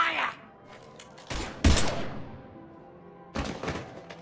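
Gunfire bursts in the Mass Effect 3 video game, two loud sharp volleys near the middle and end of the short stretch, with a brief faint sound at the start and no talking.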